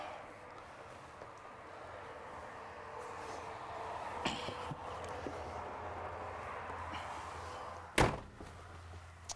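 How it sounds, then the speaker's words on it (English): A 2021 Newmar Baystar 3414 RV door shuts with a sharp thud near the end, after a softer knock midway, over a quiet low hum. "I'm going to close that door for us."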